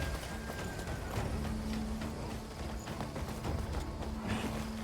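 Horse hooves clatter in a steady galloping rhythm across open ground in the Crimson Desert video game, moderately close and even in pace, under a low continuous background of ambient game sound.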